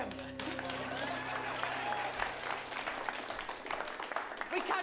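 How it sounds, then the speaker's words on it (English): Applause from a live improv comedy audience, a dense continuous patter of clapping at moderate level that carries through the whole stretch, with some cheering mixed in. "Clap for him."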